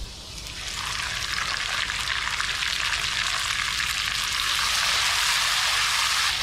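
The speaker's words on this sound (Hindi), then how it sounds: "अब इसके अंदर मैं टमाटर डाल देती हूँ।" Loud, steady sizzling of tomatoes frying with onions in a hot pan, a dense crackling hiss that swells slightly and holds throughout with no talking.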